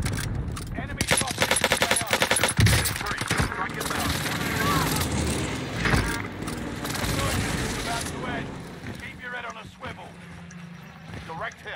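Rapid automatic gunfire from an STG 44 rifle in Call of Duty Warzone, dense bursts of shots over game noise, loud and close, with a voice talking over parts of it.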